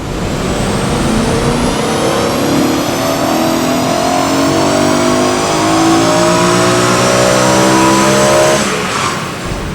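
A 152,000-mile BMW E92 M3 on a dyno, engine revving loud and close as it climbs steadily in pitch through a full pull before backing off at the end.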